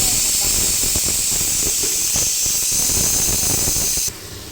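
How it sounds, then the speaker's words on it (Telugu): Sliced onions frying in hot oil for Rayalaseema chicken biryani give a loud, continuous hissing sizzle close by. The sizzle holds steady before dropping abruptly near the end. "అబ్బా, ఆనియన్స్ వేసి ఫ్రై చేసుకున్నాం"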